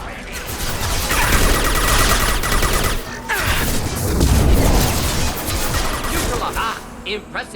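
Gunfire and a crate exploding in the Mass Effect video game, on the planet Tuchanka: loud overlapping shots and booming blasts crowd a dense, continuous battle soundscape with a voice mixed in.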